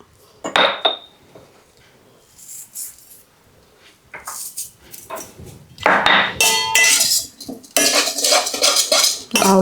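A spoon clinks and scrapes against a bowl as turmeric, chilli powder, garam masala and salt are mixed into a biryani marinade, in intermittent bursts that grow louder and busier toward the end.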